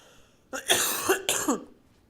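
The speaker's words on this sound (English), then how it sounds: "Apologize for my coughing." Two harsh coughs sound in quick succession, close and fairly loud, with a short gasp between them.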